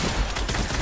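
SMG gunfire in the Fortnite video game: a short, dense, rapid burst of shots, loud and close, filling the whole brief moment.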